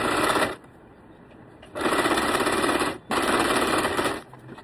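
A sewing machine stitching a decorative frock belt runs in three loud, steady bursts of rapid whirring, with short quiet pauses between them.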